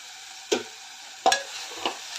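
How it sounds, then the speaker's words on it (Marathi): Diced potatoes sauté with turmeric and crushed garlic in an open pressure cooker, with three distinct scraping stirs of a spoon spaced apart over a faint, low sizzle. Nobody speaks. "बटाटा घालून चांगलं परतून घेते"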